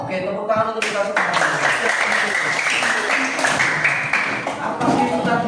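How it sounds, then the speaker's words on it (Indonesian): A classroom of students clapping together after a game, with sharp hand claps over lively voices and chatter that run all the way through. "Oke, tepuk tangan untuk kita semua."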